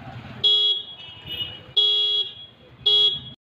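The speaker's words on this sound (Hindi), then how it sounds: "इसका हॉर्न कितना लाउड बज रहा है बाइक के अंदर भी" Three loud, shrill motorcycle horn blasts, powered by a repaired 12-volt battery, sound close by at a steady rhythm, with a low engine rumble beneath them.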